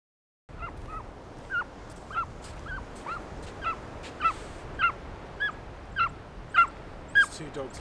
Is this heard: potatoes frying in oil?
no